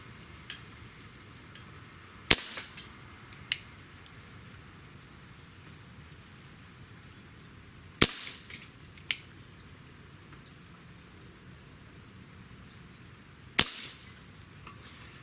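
Webley MKVI 4.5 mm CO2 air pistol firing pellets: three sharp, separate shots spaced several seconds apart, each a crisp pop with a faint metallic tail, over a soft steady background hiss.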